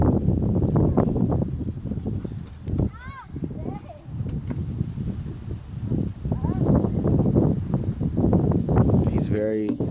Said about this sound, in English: I do apologize for the wind. It is really windy today.